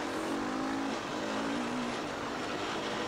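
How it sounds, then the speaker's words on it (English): An off-road vehicle engine drones and revs at steady speed along a forest trail in Bear Brook Forest during a New England charity trail ride, a continuous close buzzing hum blended with rushing wind noise. "Rev up your engine and go."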